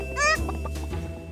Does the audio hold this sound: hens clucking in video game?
yes